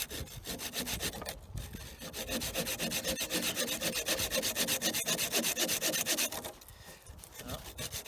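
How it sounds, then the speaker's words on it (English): A backpacking saw rasps through a 2.5 to 3 inch piece of wood in steady, fast back-and-forth strokes. The sawing is close and continuous, pauses briefly, then resumes more softly. "Let's just go through the 3 saws real quick, show you a typical piece of wood here"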